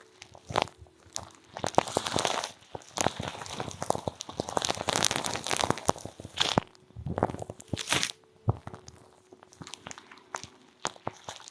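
Pet animals chew and crunch food close up, irregular bursts of crisp crunching and biting with short pauses between mouthfuls, fairly loud and without talk.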